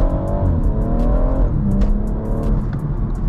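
A BMW M140i Shadow Edition accelerating hard while racing at night, its engine rising in pitch and then dropping on a gear change before climbing again. It sounds loud and close from inside the car, with no talk.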